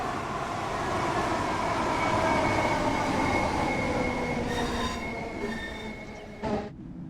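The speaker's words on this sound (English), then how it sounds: "Begin applying a small amount of braking force to bring the train to a gentle" A train in the Train Sim World 6 simulator rolls on as its brakes squeal into a stop, with high-pitched screeching tones rising over steady rumbling running noise and a sharp clunk near the end.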